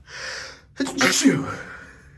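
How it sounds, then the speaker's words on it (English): A breathy inhale builds up, then a single loud, close sneeze bursts out and trails off into a short exhale. "I'm gonna sneeze."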